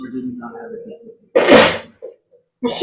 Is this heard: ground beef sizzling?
no